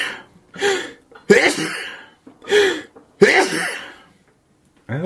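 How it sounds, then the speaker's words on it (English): A series of sneezes in a row, each a sharp burst of breath with voiced build-up, loud and close, with brief pauses between them. "Oh, I'm going to sneeze."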